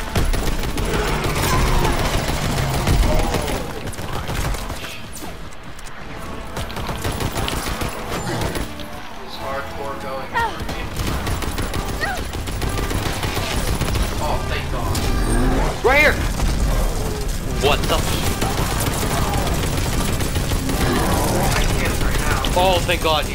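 Gunfire during a Call of Duty WWII Zombies boss fight on the Shadowed Throne map, rapid repeated shots and mechanical clatter nearly nonstop, with players talking over the shooting.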